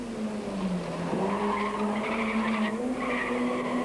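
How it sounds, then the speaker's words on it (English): Golf GTI rally car skidding with sustained tyre squeal over a steady engine drone, loud and close throughout a rally stage. "we join Glyn Hall and Martin Botha in their Golf GTI"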